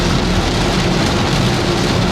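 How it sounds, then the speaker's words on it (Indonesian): Heavy rain drums steadily and loudly on a Daihatsu Ayla during a road trip near Sumedang, a dense unbroken patter with no talk. "Hujannya deras nih di sini."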